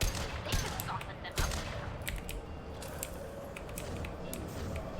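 Mass Effect 2 combat: bursts of sharp game gunfire cracks and repeated rapid shots scattered across a low background rumble, fairly quiet, with talk intermittently present.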